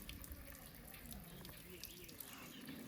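Water pours onto the top of farm soil and runs off the surface instead of soaking in, a steady close trickling and splashing wash that continues throughout with no talk.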